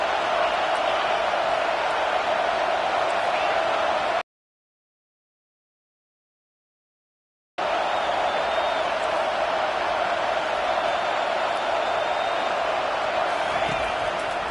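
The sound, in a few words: stadium crowd cheering on third down, college football video game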